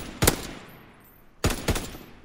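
Gunfire rings out in a World War II video game as two sharp, loud bursts about a second apart. Each burst is a quick pair of shots, with nothing in between.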